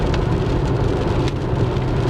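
Spring rain during a thunderstorm day keeps falling steadily on surfaces outdoors, a dense close wash of patter with faint vehicle rumble underneath and no voices.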